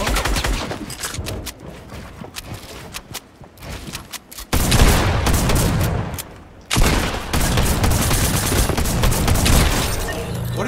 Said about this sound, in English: What are you shooting at, kid?